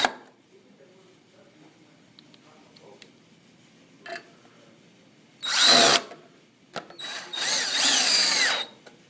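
A power drill drives wood screws into a wooden post during assembly of a large stand, two loud whirring bursts of a few seconds each after quiet handling noises and small clicks.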